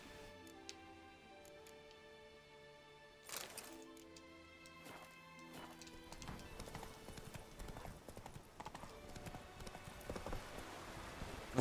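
Horse hooves clip-clopping in The Witcher 3 video game, a steady rhythmic patter that builds and grows busier toward the end, moderately loud over game music and ambience.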